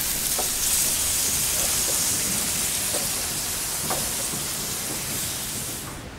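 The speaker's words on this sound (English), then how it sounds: "I'll just flip the burger." A burger sizzling on a barbecue grill just after being flipped, a steady broad hiss with occasional small pops and crackles, no talking.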